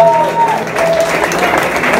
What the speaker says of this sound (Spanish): Muy bien, fuertes y aplausos.